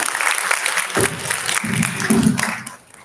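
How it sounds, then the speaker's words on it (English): An audience at a youth ideathon finals event claps for the judges, a short burst of mixed applause with some low voices underneath, fading out at the end. "A round of applause for the judges."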